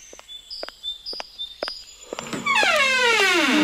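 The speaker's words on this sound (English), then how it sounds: "Now I'm yawning." A person yawns in a long, rising-then-falling drawn-out breathy yawn that begins after a few light taps and fills the later part of the clip.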